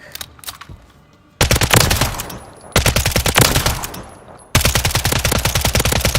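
Uzi submachine gun fire in the Warzone video game, loud rapid bursts: a faint rattle, then three long sustained automatic volleys separated by brief pauses.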